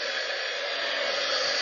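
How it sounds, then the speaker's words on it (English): A handheld heat tool for crafting blows hot air in a steady, close whooshing hiss, loud and unbroken, with no one speaking. "Then we're gonna turn on our heat tool."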